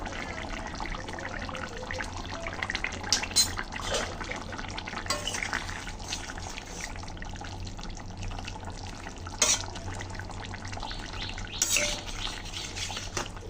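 Roasted cumin powder being stirred into a tilapia curry with taro root in a pan, a spoon scraping and clinking against the metal in steady strokes, with a few sharper knocks, alone without talk.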